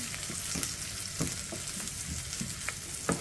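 Garlic and onion sautéing in a pan for a Filipino vegetable stir-fry, a steady crackling sizzle punctuated by irregular spatula scrapes and taps, close and moderately loud, with no speech.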